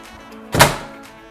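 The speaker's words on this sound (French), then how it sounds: "je vais fermer la porte comme ça." A house door swings shut with a single soft, muffled thunk, close and fairly quiet, alone against faint background hiss.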